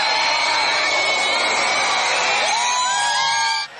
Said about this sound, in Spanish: Una multitud concentrada en la playa gritó de emoción.